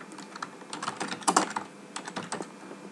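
Fingers type on a computer keyboard in brisk, irregular bursts of light key clicks, fairly quiet and close, with short gaps between runs and no talking.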